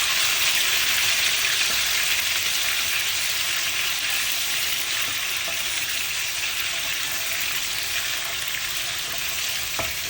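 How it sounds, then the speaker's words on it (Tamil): Ginger garlic paste frying in a pan for a Kerala-style mutton roast, giving a steady, loud, close sizzle that runs unbroken the whole time with no voices. "இது நல்லா அந்த பச்சை வாடை போகிற மாதிரி ஃப்ரை ஆகணும்."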